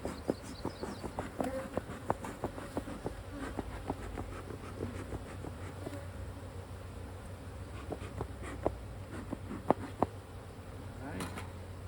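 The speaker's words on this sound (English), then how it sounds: "I am going to smoke myself to get these bees off of me" Honey bees swarm and buzz close around a beekeeper during a hive inspection, a steady insect drone with scattered sharper clicks and taps throughout.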